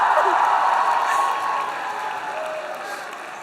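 An audience at a student Model UN closing ceremony claps and cheers, a dense wash of applause that starts loud and gradually thins out.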